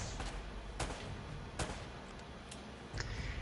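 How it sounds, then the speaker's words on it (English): Explosive bangs burst out of rumbling combat noise in the video game Uncharted: Drake's Fortune, with several sharp, sudden blasts spaced irregularly across a dense, continuous backdrop. "Shit, grenade."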